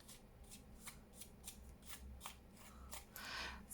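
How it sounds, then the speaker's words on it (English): Scissors cut paper for a junk journal craft project: a quiet, close series of about ten quick snips at a steady rhythm, ending in a softer rustle of paper, with no voices. "I'm about ready again to have a good cutting session."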